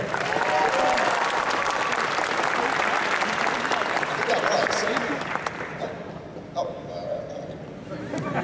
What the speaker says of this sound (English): Let's give him a round of applause for Jim Ducko.